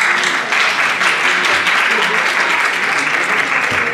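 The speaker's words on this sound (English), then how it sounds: "Let's give him a round of applause." Loud, dense applause from a conference audience at an international medical congress in London, a continuous round of clapping that holds steady for the full duration with no voices over it.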